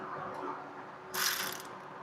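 A ratchet tightens a bolt in a garage, giving a faint, brief burst of clicking pawl ticks near the end against low background hum.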